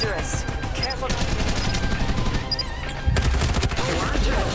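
Gunfire in the Farlight 84 battle game, dense bursts of rapid automatic shots layered with game effects and a heavier blast near the end, loud and continuous throughout.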